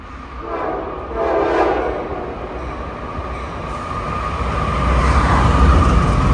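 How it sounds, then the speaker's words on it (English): An empty coal train rumbles past close by at Cassandra, Pennsylvania, a steady roar of rolling cars with a horn-like tone rising in the middle, growing louder toward the end. "Empty coal train."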